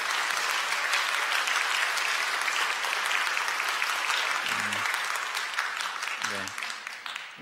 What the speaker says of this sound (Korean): 여러분들 환영의 박수 부탁드립니다